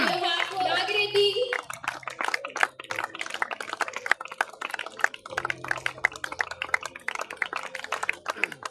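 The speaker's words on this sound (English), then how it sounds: "Come on, Vinicius, clap for yourself, for your hard work." Students at a Model UN event clapping, with sharp, uneven handclaps from a modest group continuing for several seconds after a brief opening burst of voices, with some talk underneath.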